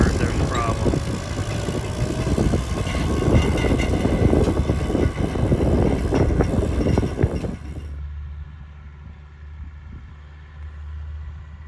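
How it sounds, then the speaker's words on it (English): A small tractor laying plastic mulch over field beds runs with a steady mechanical engine drone and rattle, loud and close, then drops to a quieter hum near the end. "the little tractor that lays the plastic"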